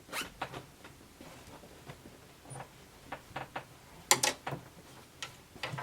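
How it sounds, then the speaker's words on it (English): An invisible zipper on a sewn garment is pulled closed in a series of short, crisp rasps and ticks, quiet and close, with a louder burst near the end. "Close your zipper."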